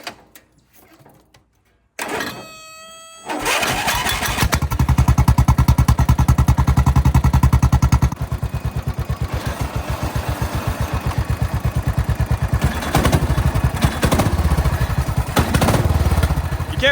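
An off-road lawnmower engine starts after a few faint clicks, then runs loud and close with a fast, rough, steady chugging that shifts slightly in tone partway through.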